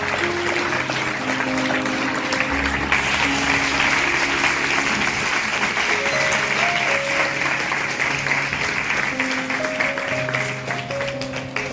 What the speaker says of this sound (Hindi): क्यों ना हम तालियों के साथ प्रभु के दास का आदर करेंगे